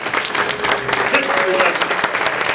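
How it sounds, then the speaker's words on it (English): A crowd gives a dense, steady round of applause at a celebration honoring 50 years of Big Chiefs, with sharp claps packed together throughout and no pause. "let's give a round of applause."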